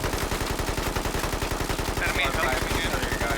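Full-auto AK rifle fire in a trench-battle video game, a steady rapid stream of loud close shots running the whole time with faint speech under it.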